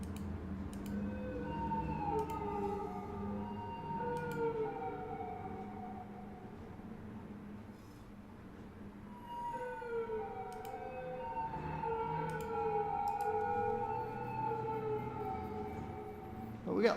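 Police car sirens wailing in the city-building game Cities Skylines, several overlapping rising and falling tones sounding continuously and fairly close throughout, with no talk.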